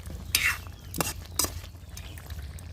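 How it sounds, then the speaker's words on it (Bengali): A ladle stirs ground cumin into a bitter gourd curry in a village kitchen, giving three or four distinct scraping, clinking strokes against the pot over a low simmering background, close up with no voices. "সেই জিরেগুলো আমি হাতাটে হাতা দিয়ে বেটে এখন দিয়ে দিচ্ছি তবে তরকারির সঙ্গে ভালো করে মিশিয়ে নিলাম"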